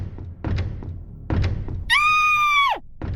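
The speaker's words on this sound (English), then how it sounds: "I started to hear a lot of banging on the door" Heavy thuds bang on a door in several separate bursts of knocks, close and muffled, broken by a loud high shriek partway through.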